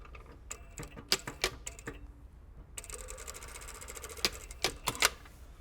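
A sewing machine stitches a shirt sleeve into the armhole in quick rattling runs, with a short pause and then a longer steady burst, close by.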